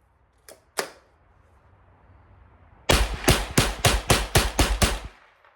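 A Henry .22LR rifle fires Remington Golden Bullet rounds: two lone sharp cracks, a pause, then a fast string of about eight evenly spaced loud shots, close and crisp with no talking.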